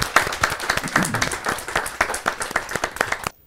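Audience at a Hindi poetry gathering (kavi sammelan) claps loudly and steadily, a crisp run of hand claps lasting about three seconds before cutting off abruptly.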